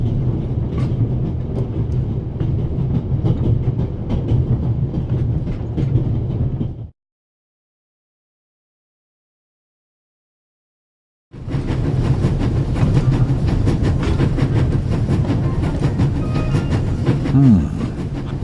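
A train rolls along its rails with a loud, steady rumble and rhythmic clatter. The sound cuts to total silence for several seconds midway, then returns at the same level, with a brief squeal near the end.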